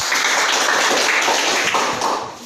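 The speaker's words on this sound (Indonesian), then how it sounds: "Baik, tepuk tangan." Loud, close applause from a class of students in a classroom, a dense burst of rapid clapping lasting a couple of seconds before tailing off.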